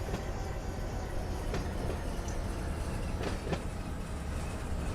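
Diesel locomotives, a Dash 9 and a GEVO, rolling in the Run 8 train simulator: a continuous wheel-on-rail roar with a few sharp metallic clicks and faint squeals, steady throughout and heard alone.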